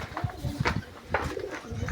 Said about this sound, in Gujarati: કબૂતર પણ અત્યારે આરામથી બેઠા છે